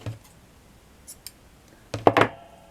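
Scissors snip through sewing thread during a Victorian-style gathered fabric flower project: a faint click early on, then a close, loud double snip of the blades near the end, with quiet pauses between.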